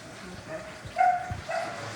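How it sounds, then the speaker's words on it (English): Dogs bark in the background of a kitchen, a couple of short yips and whimpering barks in quick succession, muffled and not very loud, over faint room noise. "When they smell food, they get to barking."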